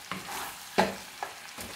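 Chettinad chicken frying dry in a little oil in a pan, with a steady soft sizzle broken by a few sharp scraping stirs, close and moderately loud, with no talking.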